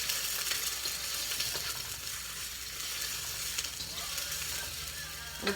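Onions sizzle in a hot wok for a grapefruit stir-fry, a steady, fairly close crackle with stirring scrapes and no talk.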